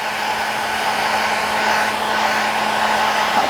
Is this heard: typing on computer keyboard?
no